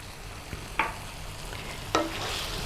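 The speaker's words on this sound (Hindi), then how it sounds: "इसको 1 मिनट भूनेंगे।" Chicken frying in a pan with chopped coriander and green chili, a steady close sizzle broken by two clinking stirs of a utensil.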